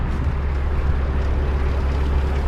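A canal boat engine hums with a steady low rumble, some wind noise over it and no voices.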